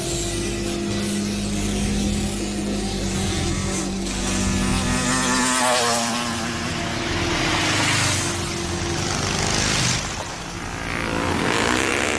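Motorcycle engine droning steadily at close range in an action film scene near a factory, its pitch rising and falling over a broad, noisy roar.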